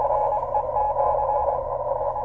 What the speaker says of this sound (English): This is CW or Morse code, but I'm unable to decode it with the decoder built into the radio.